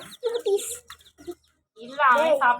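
Chicken clucks and squawks, fairly close, in short bursts, with a second louder, drawn-out cackle near the end; some speech in between.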